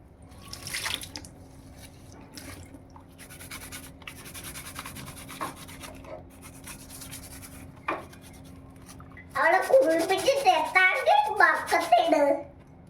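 Water splashes and sloshes in a bucket as crabs are scrubbed and washed for a curry, with a quiet drippy stretch first and then a lively burst of splashing near the end; faint voices linger in the background.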